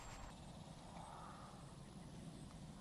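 An Avios C-130 RC model plane at about half throttle makes a steady, faint propeller drone during a low pass, heard from a distance with a windy, even hum.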